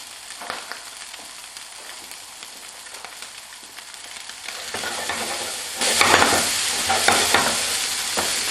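Peppers and spring onions stir-fry over high heat in a pan, a close, continuous sizzle with scraping stirs that grows louder and more intense partway through.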